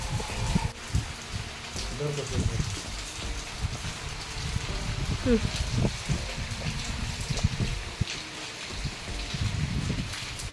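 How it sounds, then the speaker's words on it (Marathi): Steady rain with strong wind, a continuous close patter of drops and gusty noise throughout, while a person talks over it. "हो पाऊस आहे ना म्हणून वार पण खूप आहे"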